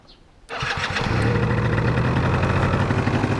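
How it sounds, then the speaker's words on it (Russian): A two-stroke engine fires up on choke after a short quiet moment, then runs lean at high revs with a steady, buzzing rattle up close and no one speaking. "Сейчас я запускаю опять на подсосе."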